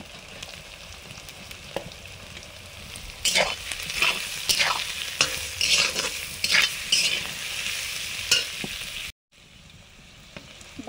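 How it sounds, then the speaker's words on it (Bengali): Carrots stir-frying over a high flame in a pan for egg chow mein, a steady loud sizzle broken by repeated scraping stirs and clatter, close up, then a brief cut and a quieter sizzle. "একদম হাই ফ্লেমে ভাজবো। প্রথমে দিচ্ছি গাজর"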